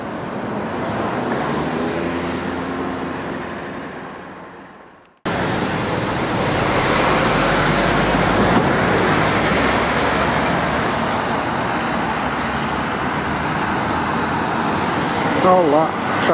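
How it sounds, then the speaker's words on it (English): Road traffic queues at traffic lights on the route towards Warrington, Northwich, giving a continuous roadway rumble and engine hum, briefly cut near the start, then steady with vehicles idling and moving nearby. "All that traffic caused by the lights having to stop, wasting fuel, causing pollution, stood at traffic lights"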